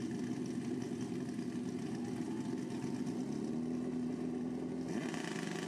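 Drag-racing motorcycles, a Suzuki Hayabusa and a Kawasaki, idle together at the strip with a steady, continuous low engine drone that holds even throughout, close and fairly loud, with no talking.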